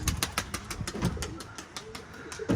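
Pigeons in an office coop with their young, giving repeated short calls and wing flutters close by, with a steady rustle between them.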